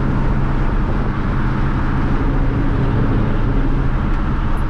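Catless Dodge Challenger cruising at steady highway speed in sixth gear, a continuous low exhaust drone and road roar holding an even, loud level throughout with no talking.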